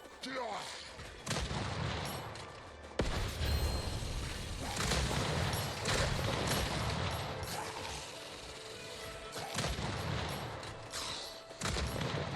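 Missiles and rockets firing in a video game, dense overlapping booms and whooshing launches in rapid bursts that keep up almost without pause, with game music and effects underneath.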